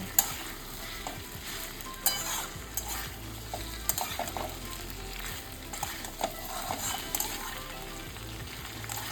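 Vegetables for Bengali shukto, including bitter gourd and eggplant, sautéing over medium flame, with a continuous soft sizzle and occasional spatula scrapes and stirs against the pan, close by and without talk.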